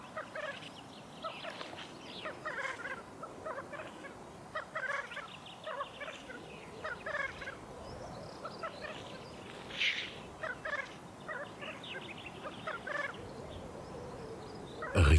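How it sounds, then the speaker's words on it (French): Bubbling, rolling cooing calls from many black grouse overlap with sharp hissing sneezes, a busy chorus of males displaying at a lek, heard from a moderate distance. "Rythmant leur parade de leur chant, les petits coqs de bruyère exhibent leur parure colorée et combattent avec panache."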